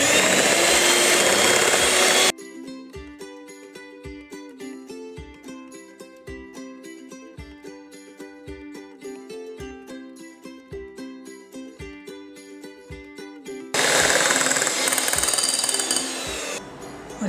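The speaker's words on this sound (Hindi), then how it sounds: "अब इसको हम लो स्पीड पे अच्छे से मिक्स कर लेंगे।" An electric hand mixer blends mango ice cream mix at low speed, whirring loudly and close for a couple of seconds, then giving way to a long stretch of rhythmic music before the whir returns near the end.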